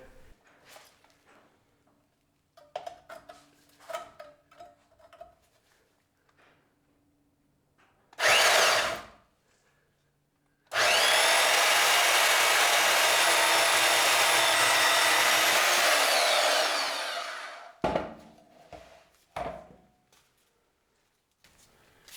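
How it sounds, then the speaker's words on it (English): A portable band saw cuts through a Ford 8.8 axle housing in a loud, steady whine lasting several seconds, preceded by a short burst of the saw and some quiet handling noises and talk before and after. "I'm gonna run down it with my portaband and see if I can just keep it straight down the whole way"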